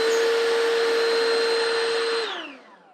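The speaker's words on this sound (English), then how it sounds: "You can use this lightweight handheld vacuum." Lightweight handheld vacuum cleaner running with a steady whining motor tone, close and loud, then powering down with a falling pitch near the end.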